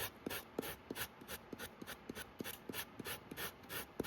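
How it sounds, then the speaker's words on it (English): Steady rhythmic rasping strokes of hand sanding leather with a sanding block and 120-grit sandpaper, back and forth about three times per second, close up and fairly quiet, with no talking. "we'll get out our block, sanding block, and sandpaper, and do it the way it used to be done"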